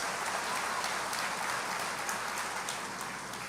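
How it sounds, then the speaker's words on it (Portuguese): A church congregation applauding during a sermon, a dense sustained patter of many hands clapping at steady loudness, with no talking over it. "Vamos aplaudir ao Senhor por isso."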